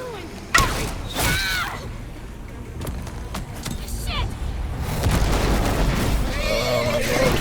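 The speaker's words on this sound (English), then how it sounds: "The loud explosion sends the horses rearing and running away" A sudden loud explosion in The Walking Dead video game near the start, followed by mechanical creaks and clatter, then a horse's whinny as horses rear and run, over rumbling noise and voices.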